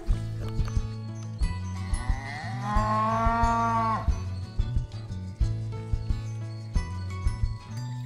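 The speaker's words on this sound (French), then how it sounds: "Il rencontre une vache sur son chemin" A single long, low moo from a cow rises out of a light musical backing, lasting a couple of seconds before the music carries on.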